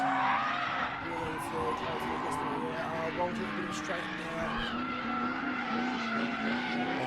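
A Nissan S14 drift car slides around The Bend race track during a drifting competition, its engine droning and tires squealing continuously at a distance under steady commentator talk.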